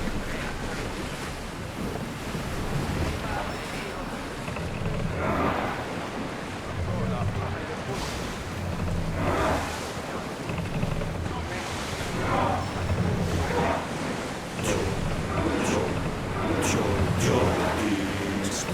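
Wind rushes and ocean waves wash steadily around a sailing ship leaving harbor in Assassin's Creed Odyssey, with gusting surf swells and occasional splashes throughout, a voice talking intermittently over the loud, continuous sea ambience.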